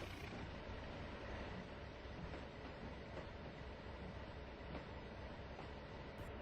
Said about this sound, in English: he heard the rumble of a diesel engine pull into the yard